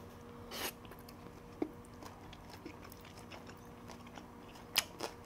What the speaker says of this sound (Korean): 탕수육 한 점 먹어보겠습니다